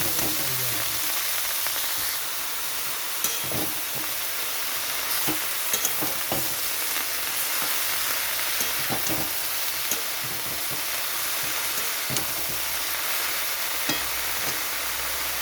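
Bathua greens fry in a pan with a constant dense sizzle and hiss, broken by repeated clicks and scrapes of a spatula stirring, steady and close throughout with no talking.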